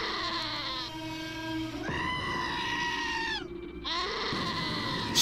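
Goats in the video game Wasteland 2 bleat in a few long, wavering, nasal cries one after another, loud and close with brief gaps between them.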